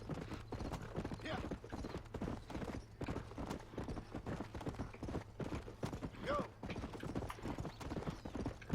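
Horse hooves clip-clop in a steady, quiet walking rhythm in Red Dead Redemption, with a short whinny partway through.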